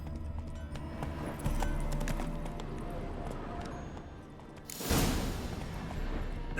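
Roach the horse walks on hooves in The Witcher 3, giving a steady clip-clop rhythm under game music and ambience, and a burst of noise breaks in near the end.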